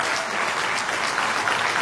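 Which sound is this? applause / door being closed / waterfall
applause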